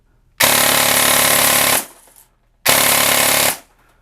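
A SOLINK brushless airsoft gun with an 18:1 gear set fires full-auto 0.2 g BBs in two loud, dense bursts, each over a second long, separated by a brief quiet gap, with no talking.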